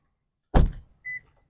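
A Honda CR-V Sport Touring Hybrid car door shutting with a single solid thunk, followed a moment later by a short electronic beep, heard close in a quiet setting.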